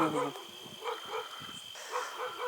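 A dog barks in short repeated bursts, somewhat distant, with a faint steady hum in the background.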